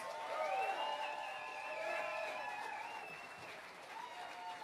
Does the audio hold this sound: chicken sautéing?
no